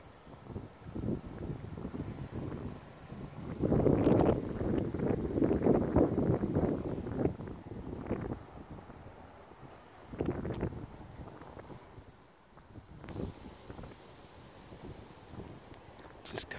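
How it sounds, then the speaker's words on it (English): Wind gusting across a microphone outdoors in a suburban setting, a low rumbling buffet that swells and fades in uneven bursts, loudest in the middle stretch, with leaves rustling faintly underneath. "Just covering the mic there because of the wind"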